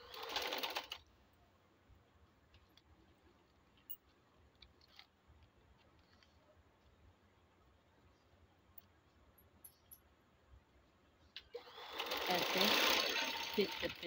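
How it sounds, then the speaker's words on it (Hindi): Sewing machine running fast as it stitches a trouser seam, a loud whirring burst at the start and another near the end, separated by a long quiet stretch with faint handling noise. "ऐसे हम स्टिच करते जाएंगे।"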